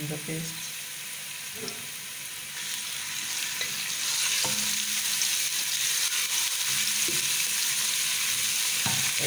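Garlic paste sizzles and fries in a hot pan with occasional scraping stirs and utensil knocks, growing louder partway through.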